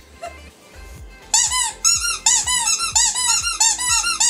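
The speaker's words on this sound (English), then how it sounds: "So we have a little fluffy bunny. And that's a very satisfying squeak." Fluffy plush bunny dog toy squeezed over and over, its squeaker giving a run of loud, close, bright squeaks in a steady rhythm after a brief quiet start.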